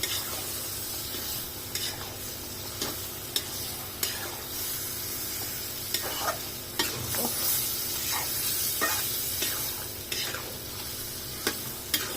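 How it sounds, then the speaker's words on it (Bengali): Beef tripe and spices are stirred in a pan, a continuous sizzling fry marked by repeated scraping taps from the utensil, close and moderately loud. No voices are heard. "এখন ভালো করে মিশাই নিব মশলার সাথে।"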